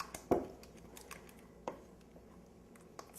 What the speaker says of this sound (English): now we're just going to beat this together in a large bowl